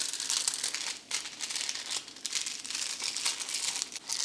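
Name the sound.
aluminum foil being folded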